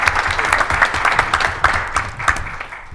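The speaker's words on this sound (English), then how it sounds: "So a huge round of applause to the four of you." A seated audience at a leadership forum panel applauds, a dense, steady wash of many hands clapping close by, with no speech over it.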